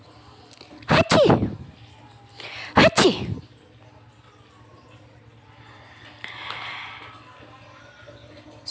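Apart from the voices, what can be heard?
sneezing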